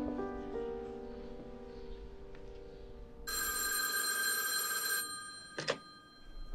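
A telephone bell rings in a film scene set in an old-fashioned home, a bright electric ring sounding for several seconds at moderate volume, then cutting off, followed by a brief clatter like a receiver being lifted.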